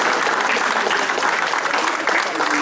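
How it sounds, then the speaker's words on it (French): Sustained, dense applause from an audience at a back-to-school community forum in Les Mureaux, steady and fairly loud throughout with no break. "on va applaudir Danielle Caron."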